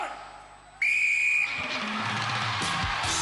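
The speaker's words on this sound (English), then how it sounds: "Wait for the whistles, the line says." A referee's whistle blows loud and sustained to start an event on the UK Gladiators television show from 1995, a single long blast followed by crowd noise and commentary-like voices.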